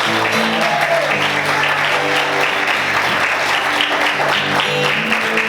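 Church congregation clapping loudly and steadily through the whole stretch, with a sustained organ or keyboard chord and faint voices underneath.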